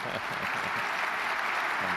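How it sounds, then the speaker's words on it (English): Applause from a conference audience at an economics talk fills the whole stretch as a dense, steady wash of many hands, with faint voices murmuring underneath. "we're going to stop here and give you a big round of applause, and you give us a big round of applause"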